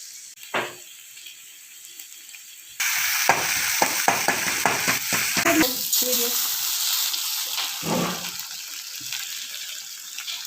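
Onions, chillies and ginger-garlic paste hit hot oil with a sudden loud sizzle after a quiet start, then keep frying steadily with stirring clatter throughout, close and prominent.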